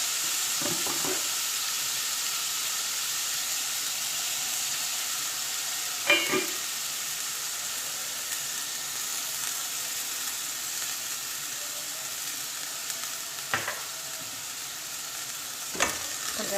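Oil sizzles and fries steadily in a pan, a continuous close hiss with a few brief clattering stirs scattered through it and no voices.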